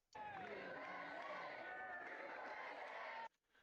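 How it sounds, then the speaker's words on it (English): A protest crowd chanting "USA" in unison, a loud, continuous massed roar of many voices that holds steady before cutting off abruptly. "They're chanting USA"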